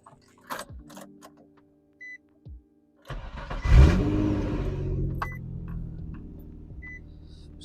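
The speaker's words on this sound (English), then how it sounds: "All right, so we're gonna start the car up now." A Nissan G35 coupe fitted with a drift switch cranks and fires at close range, a few faint clicks and a beep giving way to a loud catch, then a steady rumbling idle that settles and holds.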